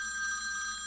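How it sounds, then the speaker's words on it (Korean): A mobile phone rings inside a house, heard from outside the front door as a steady, bright electronic tone without a break. "어떤 핸드폰이 울리기 시작했다."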